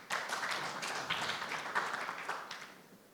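Indoor applause at a Teach For Uganda fellowship celebration, with a crowd clapping steadily for about three seconds. The noisy, dense hand claps are moderately near and slowly fade toward the end.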